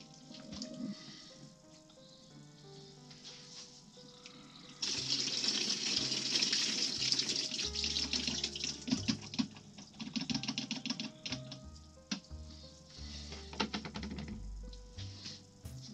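Water drains from a film developing tank into a sink in a faint splashing trickle that turns into a louder gurgling pour midway, with scattered clicks and knocks in the background.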